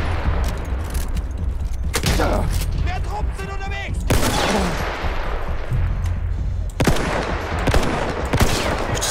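Sniper rifle shots in Battlefield 1 crack out as a few separate sharp reports spaced seconds apart over a dense background of distant battlefield gunfire and explosions.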